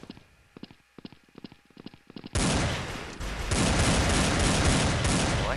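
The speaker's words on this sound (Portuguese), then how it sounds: "Pegou um tiro no cara" Gunfire in the shooter video game Blood Strike: a rapid burst of close, cracking automatic shots gives way to a sustained, dense roar of continuous firing and explosive noise.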